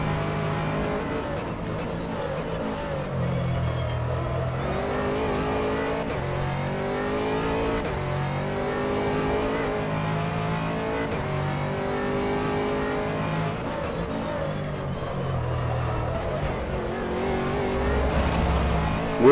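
A race car in a racing video game revs hard through continuous acceleration and gear changes, its engine pitch rising and falling steadily and loudly throughout, with no talking.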